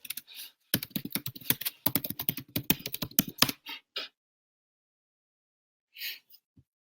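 Rapid typing on a computer keyboard, a dense run of close, crisp key clicks lasting a few seconds, then a few scattered taps and a short pause.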